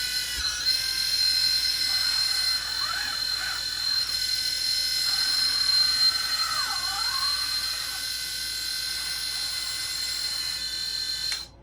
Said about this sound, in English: why the hydraulic pump is so loud, just because we have it apart partially